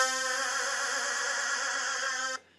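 A Eurobeat brass synth patch in NI Massive with mono mode switched off plays one bright, buzzy sustained chord, held steady and loud for over two seconds before it cuts off abruptly.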